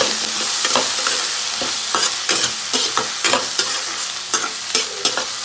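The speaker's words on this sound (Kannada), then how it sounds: "ಚೆನ್ನಾಗಿ ಫ್ರೈ ಮಾಡ್ಕೋಬೇಕು." Cooked vegetables for rava upma stirred and frying in a pan, a loud, close hiss of sizzling oil punctuated by regular scraping strokes of a spoon against the pan.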